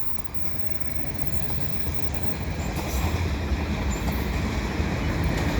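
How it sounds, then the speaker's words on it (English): Eastbound CP mixed freight train led by a heritage SD70ACU locomotive rolls past close by, a loud steady rumble of wheels and rail cars building slightly and continuing throughout with no talking. "This is an eastbound CP train."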